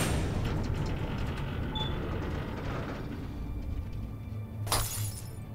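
A car being smashed and wrecked in the game Alan Wake Remastered, with a sharp shattering crash of breaking glass and metal late in the clip rising over a constant rumbling engine and road noise.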